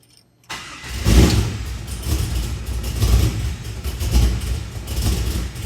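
A car engine fitted with Holley EFI starts up and keeps running, with a low rumbling idle that rises and falls in gentle revs, close and loud.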